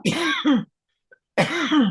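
Two bursts of harsh, throaty coughing, each a pair of quick coughs, close to the microphone with a short silence between them.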